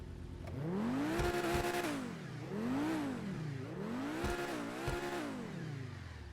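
A Pegassi Torero XO supercar engine in GTA 5 revs repeatedly, its pitch climbing and dropping in several rising-and-falling swells, steady and fairly close with no talking.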